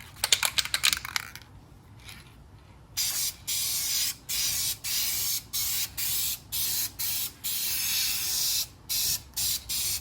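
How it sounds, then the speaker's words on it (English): An aerosol can of Dupli-Color clear coat sprays in a rapid series of short, even hissing bursts, preceded by a few rattling shakes and a brief quiet pause. "Dupli-Color. This is the clear coat, protective coating."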